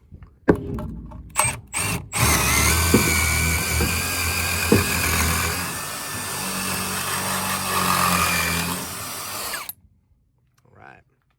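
Power tool running on an old dump truck with a Cummins 5.9 engine, a loud continuous whir that starts after a few sharp bursts and runs for about seven seconds before stopping abruptly.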